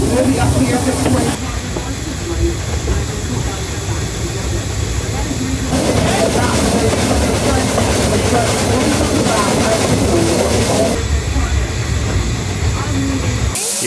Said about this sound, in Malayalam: ഈ ട്രെയിൻ ഇവിടെ തിരിയണതാട്ടാ